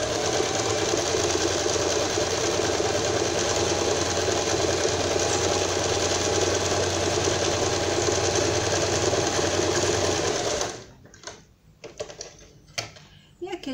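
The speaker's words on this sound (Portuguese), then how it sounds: "E aqui a gente vai passar uma beiradinha aqui de costura para ele ficar o babadinho depois" Sewing machine running steadily for about ten seconds while stitching the edge of a Barbie doll dress to form a small ruffle, then it stops and a few soft handling clicks follow.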